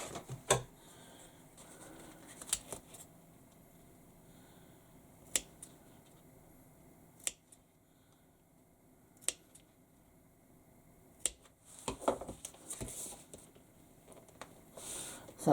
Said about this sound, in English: I'm just going to snip the edges of the piping on the curve